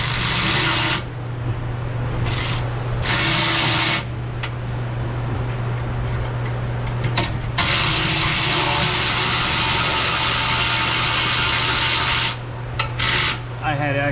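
Repeated raspy ratcheting bursts while bolting a sway bar into a collision-damaged vehicle, close and loud with short pauses between runs, over a constant low engine-like hum.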